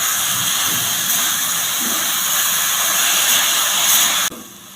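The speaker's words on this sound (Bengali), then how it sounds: "এখন গ্রেট করে রাখা পেঁপেগুলো দিয়ে দেবো নাড়াচাড়া করে নেবো একটু" Grated raw papaya hisses loudly as it meets melted caramelised sugar in a pan, a bright steady sizzle with a few stirring knocks, cutting off abruptly near the end to a quieter hum.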